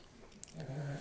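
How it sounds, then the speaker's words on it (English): Dog snoring loudly in a room during a gardening talk, a brief low rumbling snore rising after a short sniff, close and alone for about a second. "I have a loudly snoring dog in the room."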